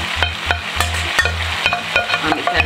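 A carrot and onion mixture fries loudly in a pan, a dense close sizzle with repeated rhythmic stirring scrapes, and no talking.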